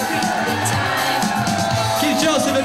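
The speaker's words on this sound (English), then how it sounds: "And a great big round of applause, ladies and gentlemen, for our ring bearer, please." Wedding guests applaud and cheer for the ring bearer at a reception, a dense, steady wash of clapping with whoops and shouts mixed in, filling a large room.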